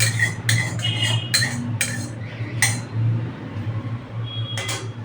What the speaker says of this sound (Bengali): এবার আমি গ্যাসে একটা কড়া বসাবো।